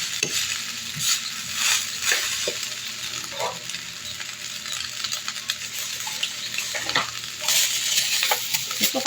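String beans being stir-fried for adobo in a pan: a steady sizzle with repeated scraping stirs and metallic clinks of the utensil, close and fairly loud, with no talking.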